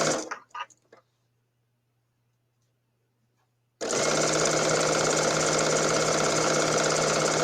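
A sewing machine runs steadily and loudly while stitching quilt strips, a continuous motor whir holding from midway to the end after a short stretch of near-silence and a few brief clicks at the start.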